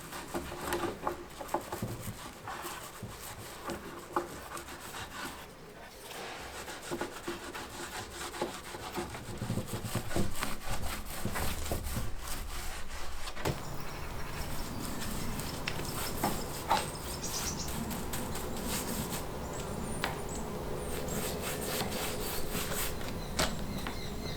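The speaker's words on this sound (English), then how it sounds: "Jeroen got some help from our daughter Fleur with sanding and painting them" Sanding of old wooden farmhouse shutters during a French farmhouse restoration gives a steady, scratchy rubbing that runs the whole stretch. It grows louder and denser about halfway through, close by, with no talk.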